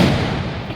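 Diwali firecrackers burst outdoors in a dense, continuous crackle of pops and bangs, loud and close, filling the whole moment without any voices.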